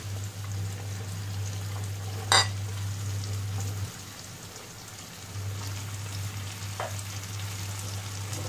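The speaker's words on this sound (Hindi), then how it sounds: "गैस का फ्लेम हाई करके हम सभी चीजों को मिलाते हुए 3-4 मिनट फ्राई करेंगे" Onion and mixed vegetables frying over a high gas flame for omurice, a steady close sizzle with a brief clatter of stirring partway through and a softer stretch before the sizzle resumes.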